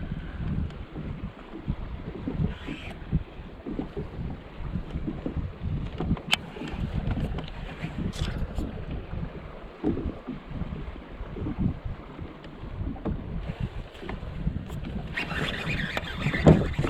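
Gusty wind buffets steadily across a lake while fishing from a boat, a low continuous rumble with a few small knocks and clicks, no talk.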